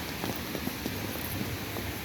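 Rain falls steadily during an outing, a soft continuous hiss with faint scattered drop ticks and no voices.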